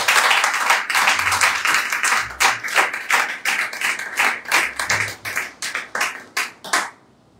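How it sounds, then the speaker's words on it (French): A church congregation claps and applauds for Reverend Francis at a tabernacle service, a dense, steady wash of many hands that breaks into rhythmic unison claps before stopping abruptly. "Nous acclamons encore pour le révérend Francis."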